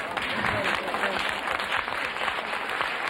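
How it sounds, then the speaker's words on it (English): Audience applause at a live talk by the Guerrilla Girls in Stockholm, a dense, steady wash of many hands clapping that fills the whole stretch without a break and with no speech over it. "Clap for us."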